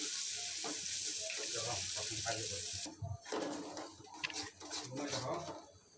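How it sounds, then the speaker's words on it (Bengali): Boiled lentils stirred into a browned, frying mixture in a pan: a loud, constant sizzle breaks off, then wet, clattering stir noises and softer sizzling follow, with faint voice-like sounds mixed in. "তারপর নাড়াচাড়া করে ডালগুলো মিশিয়ে নিতে হবে"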